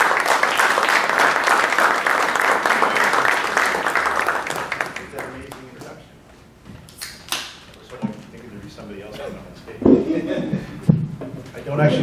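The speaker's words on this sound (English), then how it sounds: "a nice round of applause" A business-event audience gives a presenter loud, dense applause for about five seconds before it fades into scattered claps, chuckles and people speaking nearby.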